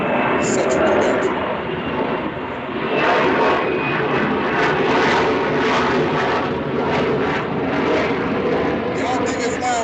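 A jet airplane passes low overhead, a loud sustained roar of engine noise that swells and fades slightly across the clip, with a person talking underneath.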